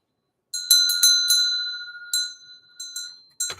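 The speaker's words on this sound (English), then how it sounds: "I'm going to ring the bell." A small bell is rung sharply several times in quick strikes, each bright metallic ding ringing out with a sustained tone before the next, loud and close in a quiet room.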